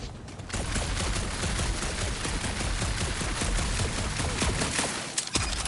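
Sustained rapid gunfire from Marvel's Guardians of the Galaxy, a dense continuous barrage of shots at close range that runs loud and steady for several seconds with no voices.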